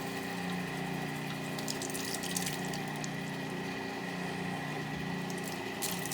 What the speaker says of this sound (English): now that we've rinsed and drained our beans